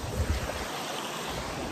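Steady broadband rush of a waterfall in Litchfield National Park, a continuous roar of falling water with low rumble, heard alone without talk.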